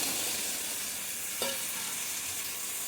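Jackfruit seeds and potato being sautéed together in a pan, a soft, continuous sizzle with a spoon stirring and one brief scrape near the middle; no one speaks.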